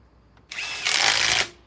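A Metabo HPT Triple Hammer Bolt impact wrench runs in one short, loud, high-pitched whirring burst lasting about a second, alone with no talk.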